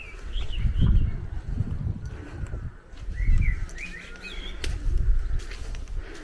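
A blackbird sings in short melodic phrases a little way off, heard over low rumbling noise and gusts of wind on a muddy walk.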